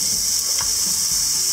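Grated carrot hits hot ghee in a pan for carrot halwa, giving a loud, steady, close hiss of sizzling with faint stirring scrapes underneath.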